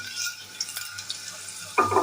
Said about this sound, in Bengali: পেঁয়াজটা কিন্তু খুবই স্লাইস করে কেটেছি, কেন এখন এটা দিয়ে একটু ভাজা ভাজা করবো বলে